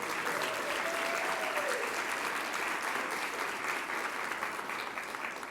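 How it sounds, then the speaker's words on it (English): An audience at a national education awards announcement applauds the funding foundations. Dense, steady clapping fills the room at an even level and eases off slightly near the end. "Let's give them a round of applause."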